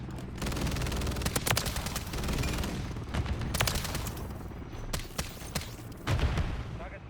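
Rapid bursts of automatic gunfire in the video game Call of Duty: Modern Warfare 3 crackle in quick repeated volleys with short pauses, loud and close, with a voice speaking over the shooting.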